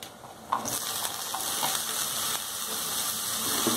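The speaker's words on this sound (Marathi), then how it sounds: "मसाल्यासोबत कांदा छानसा परतला गेलाय" Onion sautéing with masala, turmeric and coriander in a pan makes a dense, continuous sizzle and hiss, close and steady, with a soft scrape of stirring near the start and no voices.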